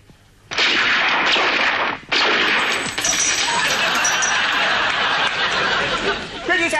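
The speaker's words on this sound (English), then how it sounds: "Pretty fancy shooting, stranger." Gunfire from a staged shootout in a TV western comedy sketch, a sudden loud burst that fills the scene and keeps on over crowd chatter and commotion for several seconds.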